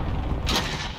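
Cluster strike explosions in a video game land as a brief, muffled boom with a dull thud, heard alone at moderate distance.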